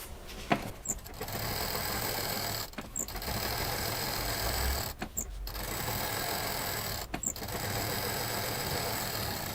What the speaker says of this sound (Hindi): इसको यहाँ रखने के बाद इसको पहले हम इस पर चारों तरफ से सिल देंगे